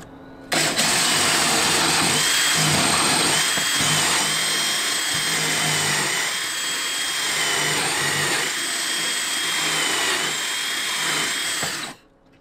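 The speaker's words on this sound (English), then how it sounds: "I am ready to drill." A power drill runs continuously at high speed for several seconds, its loud whine wavering slightly as it bores, then cuts off abruptly.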